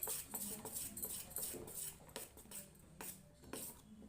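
Hand-beating of bonda batter in a bowl, a continuous rhythmic slapping and clinking against the bowl that carries on steadily at a low level with no talking.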